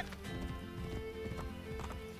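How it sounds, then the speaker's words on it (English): Horse hooves gallop in Assassin's Creed Brotherhood, a fast steady clip-clop over a game music bed, with a short whinny mixed in near the listener. "This horse is pretty fast."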